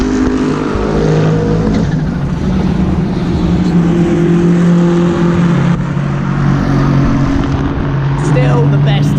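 A GT3 race car roars past at Kyalami during a 9-hour endurance race, its loud engine note and turbo sweeping across the clip, with someone talking over it.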